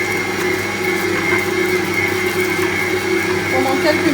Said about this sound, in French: On va laisser pétrir le tout